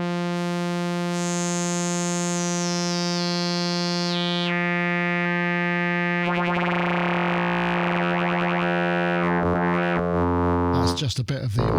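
GForce OB-E Oberheim 8 Voice software synthesizer using audio-rate modulation, a sustained buzzy tone whose pitch sweeps and steps, then turns into warbling, metallic sidebands and a noisy, churning texture near the end, loud and continuous with no talk.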